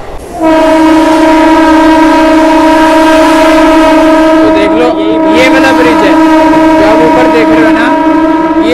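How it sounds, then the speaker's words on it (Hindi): A train on the Nerul–Uran railway line, on the Uran–Kharkopar stretch, sounds a loud, sustained horn blast that holds for several seconds close by, with rumbling and clatter of the passing cars underneath. "तो अभी इसके नीचे से ही उसके नीचे से ही ट्रेन निकलेगी हमारी"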